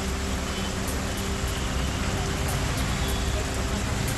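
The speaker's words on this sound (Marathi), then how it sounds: "जळगाव जिल्ह्यामध्ये सलग दुसऱ्या दिवशी मुसळधार पाऊस।" Heavy rain pours steadily over Jalgaon streets, a dense, constant hiss of drops on surfaces with faint road traffic mixed in underneath, loud and unbroken throughout.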